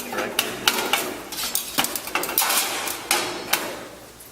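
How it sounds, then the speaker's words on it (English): A metal fryer grate is lifted out of a commercial fryer tank and set down. It gives several sharp metallic clanks and rattles at irregular intervals, close and moderately loud. "you must first take out your grate for the fryer"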